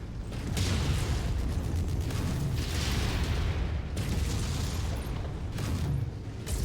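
A missile explodes in the mech combat video game MechWarrior 5: Mercenaries, producing a loud, sustained rumbling blast that stays dense and heavy for several seconds, with a brief dip midway.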